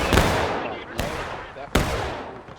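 Three heavy gunshots ring out from a video game firefight, fired through a backyard fence, each a sharp loud crack spaced under a second apart with rolling echoing tails.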